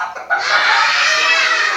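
A storyteller's voice imitates an eagle behaving like a chicken, giving a loud, sustained clucking call close up after a short quiet start, without other talk.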